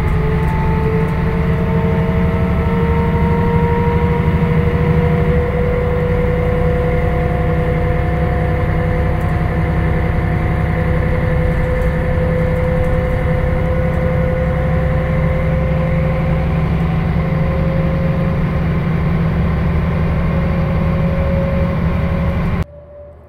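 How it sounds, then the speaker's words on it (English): A 20-year-old Mercedes O405NH midi bus from a city route runs its engine loudly and steadily for over twenty minutes' worth of seconds—about 23 seconds—as a deep, constant drone with rising and falling whine tones, cutting off abruptly at the end. "have a quick listen to the loud sound that these buses put out"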